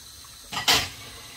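Tap water running briefly for rinsing, a short hissing burst of about a third of a second, fairly close, set in a quiet room.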